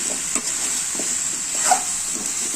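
Turmeric is stirred into food frying in a pan without water, giving a steady loud sizzle with soft scraping strokes of the spoon throughout.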